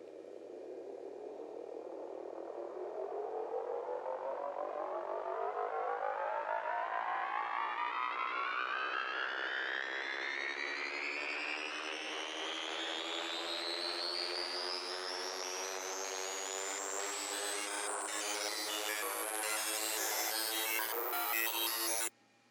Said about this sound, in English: I'm gonna show you the riser itself.